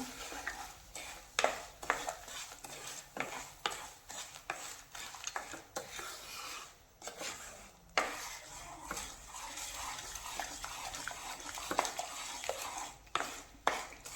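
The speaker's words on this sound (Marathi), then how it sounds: "आता हे व्यवस्थित मिक्स करून घ्यायचं" A spoon scrapes and stirs a sesame ladoo mixture in a pan over low flame, with repeated close metallic scrapes and clinks in an irregular rhythm and a faint sizzle beneath.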